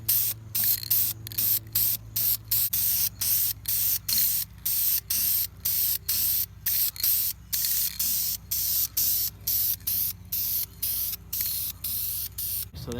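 An aerosol can lays a light first coat of paint on a large custom exhaust tip, in a long series of short, close hissing spray bursts separated by brief gaps.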